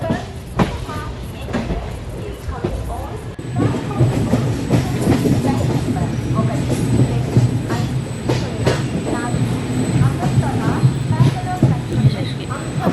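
Indian passenger train in a 3D driving game rolling along rails, with steady rumbling wheel noise and clickety-clack beats, a thin high whine, and a voice talking over it throughout.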